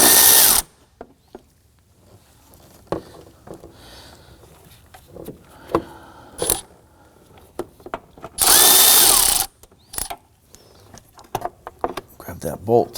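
Power tool spinning out 10mm bolts on a Nissan Murano 3.5L V6 engine bay, two short loud whirring bursts separated by clicks, clatter and handling noises, close up, with a voice speaking at times.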